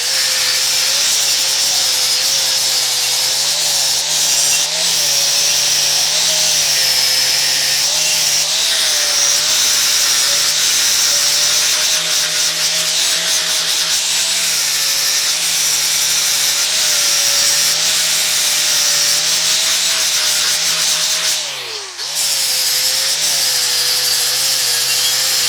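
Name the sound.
grinder cleaning up a weld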